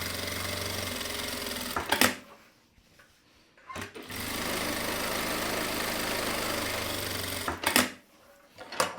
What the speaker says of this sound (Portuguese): Aí eu vou passar a costurinha para dentro desse risco.